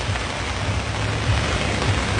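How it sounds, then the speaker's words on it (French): Steady rain falls outdoors on a street where garbage lies about, a dense continuous wash of noise from start to finish with a low rumble beneath and no speech. "Vous voyez, il pleut et les ordures avec la pluie, ben ça va partout."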